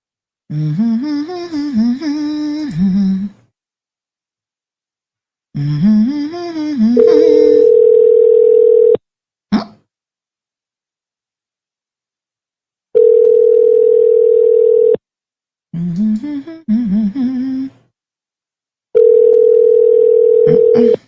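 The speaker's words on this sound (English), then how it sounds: "Nobody answering the phone" Repeated phone-line tones with no one picking up: a steady electronic tone recurs in long bursts between stretches of warbling, music-like sound and silence, loud and close with no talking.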